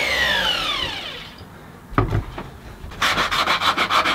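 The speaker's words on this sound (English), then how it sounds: "Yay, hand sanding." Scratchy rubbing strokes of sandpaper hand sanding a wooden bowl, repeated in a quick steady rhythm toward the end, close and fairly loud.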